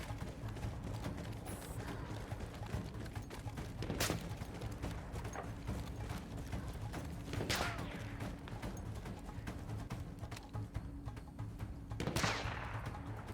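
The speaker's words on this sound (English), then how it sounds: "Stop shooting me." Enemy gunfire in the Battlefield 1 video game: three or four sharp, loud shots spaced a few seconds apart, cracking over a steady rumbling battle din, with no talk.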